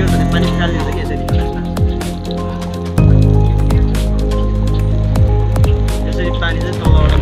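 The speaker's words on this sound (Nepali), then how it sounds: "पानी हाल्छ यसरी के भने पानी फालिन्छ कि यसरी" A homemade water pump uses a fan-type impeller to lift water from below and throw it out, giving a steady churning, splashing gurgle with a constant motor hum that grows louder partway through.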